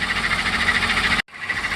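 A BMW E30 325i engine idles steadily up close, a constant mechanical hum and whir that briefly drops out near the end before resuming.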